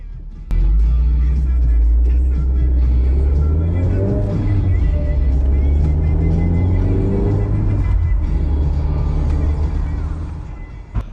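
An MG TF sports car fitted with a clutch slave cylinder support bracket drives on the road, a loud in-car engine drone rising and falling through gear changes with steady rumble throughout.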